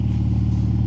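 A Ferrari Roma V8, long unused with only 8,400 miles on it, idles while warming up, its steady low throb loud and close with a faint rhythmic pulse throughout.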